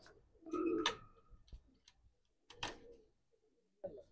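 Rampuri Teddy racing pigeons in a loft in Manama, Bahrain, give soft, scattered coos and rustles. The sounds come in short separate bursts against a quiet background.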